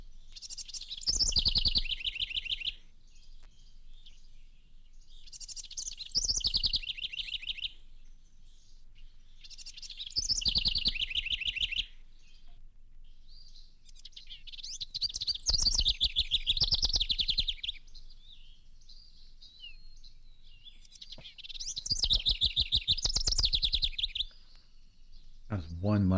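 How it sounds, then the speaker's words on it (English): Two house wrens sing bubbling, high-pitched songs in repeated bursts separated by short pauses, clear and fairly close against a quiet background. "Here are the bubbling songs of two house wrens."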